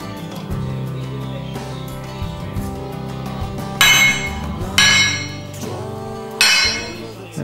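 Metal adapter plate for a Porsche gearbox tapped onto a Ford GT40 engine block in a workshop, three sharp ringing metallic knocks near 4, 5 and 6.5 seconds over a steady background hum.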